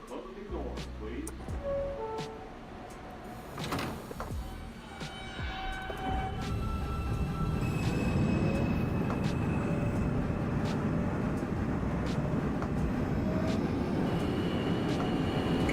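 An N subway train in the OpenBVE simulator pulls out of the station, with a low rumble and motor whine building after a few seconds into a steady, loud roar of rolling wheels that carries on to the end.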